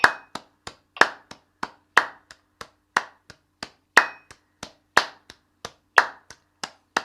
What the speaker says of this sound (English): This time clap as well.